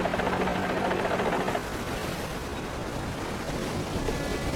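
Ocean waves wash at Land's End, where the land meets the sea, a steady broadband roar with wind buffeting the microphone; a faint tonal hum fades out after the first second and a half.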